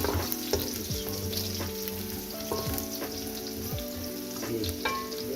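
Garlic and ginger sizzle steadily as they fry with browned onions in a pot for chicken haleem, a continuous close crackle with occasional stirring scrapes and no talking.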